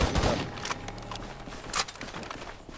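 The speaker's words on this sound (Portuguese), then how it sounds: "Mete o tiro, mete bala, mete bala." Gunfire in the video game GTA 5 during a roleplay raid on a rival hillside favela: quick bursts of shots over busy game noise, with one sharp crack near the start and another burst near the end.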